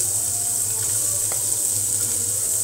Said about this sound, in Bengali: আর আমি হচ্ছে এখানে পেঁয়াজও ভেজে নিব, কারণ পেঁয়াজ বেরেস্তা করে এইটার উপর দিয়ে দেবো